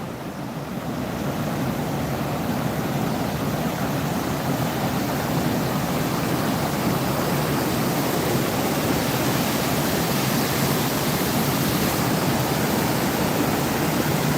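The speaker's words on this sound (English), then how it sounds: "all this water flows for another few miles before it gets dumped into, well, before it meets up with the Salt River" Floodwater rushing through Indian Bend Wash greenbelt in Scottsdale, Arizona, a steady, loud broadband roar of flowing water with no pauses, close by and continuous throughout.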